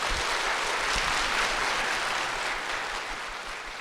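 An audience at a church program claps together to welcome a family onto the stage, producing a dense, even wash of applause that stays steady and then eases slightly toward the end.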